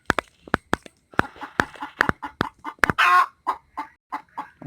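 Chickens in a coop give a quick string of sharp clucks and clicks at close range, with one loud squawk in the middle and softer clucking trailing after.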